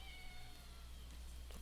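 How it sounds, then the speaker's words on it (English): A cat meows in a video game, a faint drawn-out cry over a steady low hum and tonal background with no speech. "I assume that's a cat."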